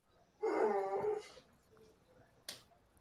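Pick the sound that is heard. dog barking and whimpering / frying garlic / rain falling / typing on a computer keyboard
dog barking and whimpering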